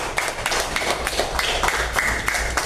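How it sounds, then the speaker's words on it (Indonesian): A classroom audience claps together, a dense steady patter of many hands lasting several seconds, fairly loud and close, with no talk over it. "Iya, tepuk tangan dulu."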